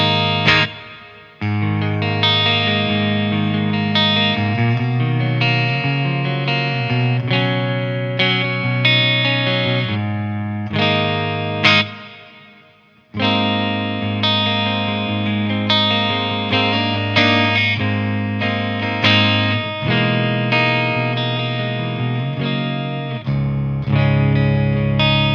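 An EVH Stealth electric guitar plays a clean, bright, chimey tone with reverb from a Fractal VP4, strummed chords and picked notes ringing continuously, with one brief pause midway and a sustained tail at the end.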